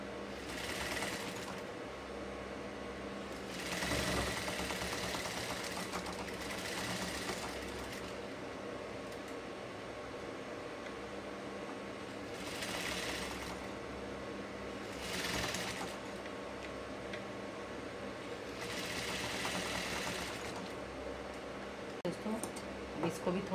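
A sewing machine stitches piping onto a partywear blouse in short bursts of fast, whirring runs separated by pauses, close by, with faint background noise between stitching passes.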